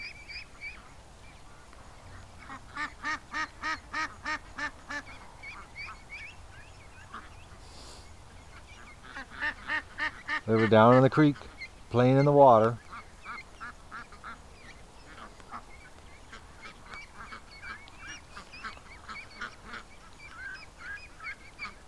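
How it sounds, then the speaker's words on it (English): Ducks quack loudly in a backyard, with rapid repeated bursts of calls rising and falling, the loudest honking bursts near the middle; a person speaks briefly in between. "If you had a problem with quacking ducks, my yard's not where you want to be right now."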